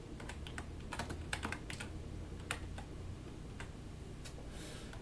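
Typing on a computer keyboard, a quiet sequence of irregular key clicks in small bursts with short pauses, close and faint over low room hum.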